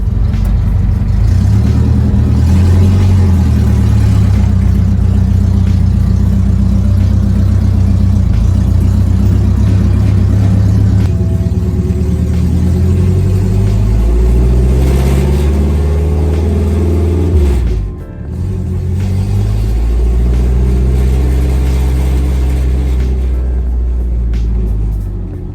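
An owner-type jeep fitted with a 4K engine rumbles loudly and steadily while being driven, with the engine pitch rising and falling as it revs and shifts, and a brief dip near the end before the heavy drone resumes.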